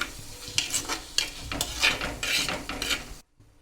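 Chopped tomato being stirred into a fish masala in a pan for coconut-milk pollichathu, giving repeated close scraping and clattering strokes over a soft sizzle, then a sudden near-silent end.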